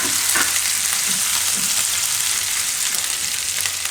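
Turmeric, ginger and chili sauté in hot oil for wheat-flour noodles, a steady close sizzle and crackle with a few soft stirring knocks, loud and continuous with no voices.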